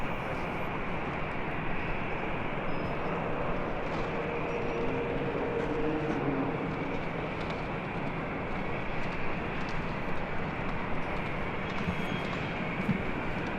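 A jet airliner takes off from runway 24 Left at LAX, a steady broadband roar that stays loud and even throughout with no other sound rising above it.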